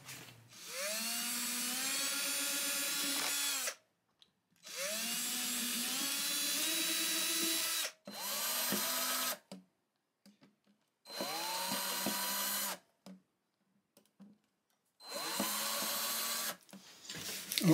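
A power drill drives screws into an archtop guitar body in five separate whirring bursts, each rising in pitch as the motor spins up, with short silent gaps between them, close and clear.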